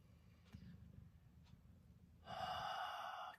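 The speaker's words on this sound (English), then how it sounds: "So let's take a breath." A single person draws a long, audible breath in a quiet room, the steady inhale rising after a few seconds of near silence and holding to the end.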